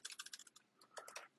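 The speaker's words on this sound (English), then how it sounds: "Typing skills are not great, but there it is" Quick, uneven bursts of computer keyboard typing, close and fairly quiet, with short pauses between clusters of keystrokes.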